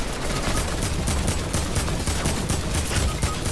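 Rapid gunfire in the Fortnite video game, a dense, continuous stream of close shots in a fast automatic rhythm, loud and harsh, with no talking over it.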